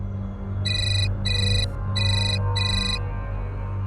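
A mobile phone ringtone for an incoming client call rings loud and close in four repeated bursts of bright electronic tones, with a low hum underneath.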